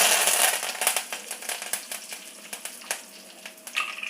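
Dried red chillies and curry leaves crackle and sizzle in hot ghee, a dense close spitting fry with scattered sharp pops throughout.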